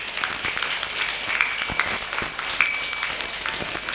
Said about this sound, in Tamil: நல்லா உரத்த கைத்தட்டல் ஒன்று கொடுங்க